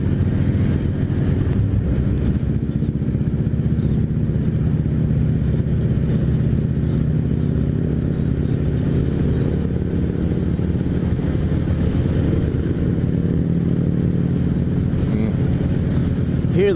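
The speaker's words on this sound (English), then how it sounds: "Hear the rumble of those motorcycles," Steady low engine rumble of motorcycles running continuously on a Santa Run group ride, with some wind noise over the microphone and no clear speech.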